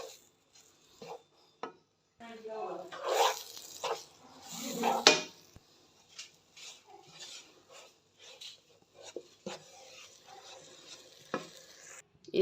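Besan roasting in butter for halwa is stirred in a pan, making intermittent rough scraping and rubbing strokes, louder in a few bursts near the start and then softer, scattered scrapes against a faint sizzle.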